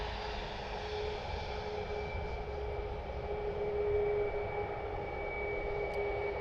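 A Southwest Airlines Boeing 737 MAX jet taking off at Cleveland Hopkins airport, a steady, moderately distant engine roar that swells slightly and holds throughout, with no voices.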